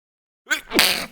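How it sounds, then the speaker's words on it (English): A single sharp sneeze, close and loud, preceded by a quick intake of breath, then silence. "oh, excuse me, had to sneeze"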